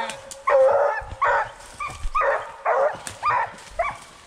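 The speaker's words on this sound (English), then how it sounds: "Let me get some footage of this dog" A hunting dog barks repeatedly during a night raccoon hunt after the coon is found, with about seven loud, close, excited barks in an uneven rhythm and some faint rustling between them.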